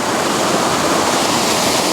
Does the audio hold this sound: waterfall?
yes